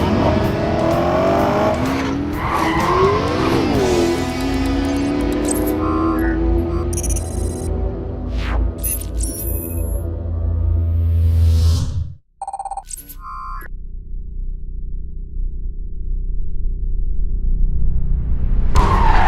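Porsche 918 Spyder hybrid all-wheel-drive sports car of nearly 900 horsepower accelerating hard, a loud sustained engine roar rising in pitch, cutting out abruptly, then a lower steady drone.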